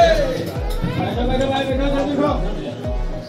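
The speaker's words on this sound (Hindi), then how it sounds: "बहुत ही ज़्यादा भीड़ है यहाँ पर।" Dense crowd chatter fills a busy Hindu temple, a Mahadev Shiva shrine, with overlapping voices and murmur close around, plus recurring low thuds in a steady rhythm beneath the babble.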